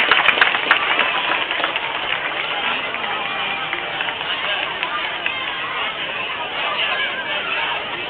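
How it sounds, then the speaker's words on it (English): Crowd applause and cheering for community leaders at a Little League opening day ceremony, a dense, steady wash of clapping lasting throughout at fairly loud level, with crowd noise mixed in. "Let's have a big round of applause and a hearty thank you for our leaders."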